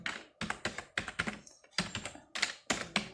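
Keys clatter on a computer keyboard while entering data into an MS Excel 2019 salary sheet, a close run of quick keystroke bursts separated by short pauses, with no talking.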